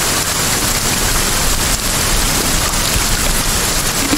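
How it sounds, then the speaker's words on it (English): Heavy rain pours down continuously in the Sons of the Forest video game, a loud, dense, unbroken hiss of falling water. "Rain's coming down real heavy."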